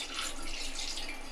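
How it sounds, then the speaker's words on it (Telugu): Half a glass of water pours into a fish curry in a pan as a brief, steady, close splashing gush with no talk. "హాఫ్ గ్లాస్ వాటర్ వేస్తున్నాను"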